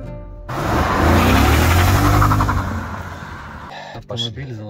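A BMW M5 E39 with its S62 V8 revving, a loud, close engine surge that swells and holds for a few seconds before dropping back, with a voice briefly heard near the end.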